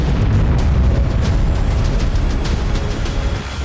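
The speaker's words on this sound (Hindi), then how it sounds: "ऐसा भयंकर धमाका," A huge, deep explosion in a Gaza war strike roars continuously, with heavy rumbling low end and crackling debris that slowly eases off.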